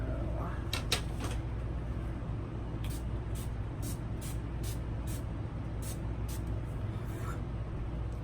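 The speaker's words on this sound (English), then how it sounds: "Now, I guess we'll do the finishing spray" Several short hissing spray bursts of NYX Matte Finish setting spray, some paired, over a steady low rumbling background hum.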